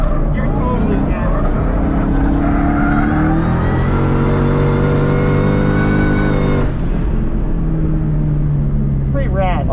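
A drift car's engine revving loudly and continuously, climbing in pitch and then dropping back, with people talking over it inside the car.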